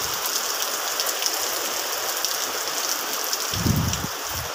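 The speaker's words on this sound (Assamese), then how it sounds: "গাইজ পুৰা ধাৰাসাৰে বৰষুণ" Heavy rain pouring down steadily in a dense, loud hiss, close and continuous, with a brief low rumble near the end.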